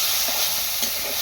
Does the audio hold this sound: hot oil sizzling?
yes